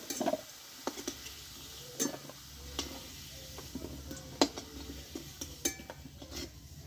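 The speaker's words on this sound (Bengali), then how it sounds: "এবার আমি তেল থেকে তুলে নেব।" Fried potatoes are lifted out of hot oil with a metal utensil, producing faint scattered ticks and light clinks against the pan over a soft, quiet sizzle.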